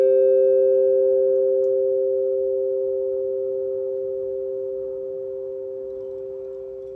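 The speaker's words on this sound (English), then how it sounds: "I'm gonna hit both the bells and then let's count how long we hear it" Two bells ring out together in a long, steady, pure tone that slowly fades over several seconds with nothing else around it.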